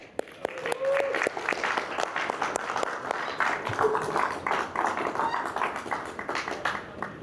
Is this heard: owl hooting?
no